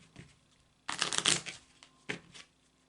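Kipper cards being shuffled by hand in two bursts, a long riffling flurry followed by a shorter one, close and fairly quiet with soft handling noise between, no talk.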